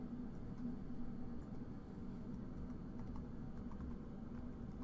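Soft, steady clicking of fingers typing on a computer keyboard, faint and close, in a quiet room with no one talking.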